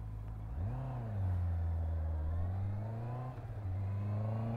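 Four-cylinder Honda CB650R motorcycle engine revving up smoothly, pitch rising and falling through gear changes, close and steady with no talk.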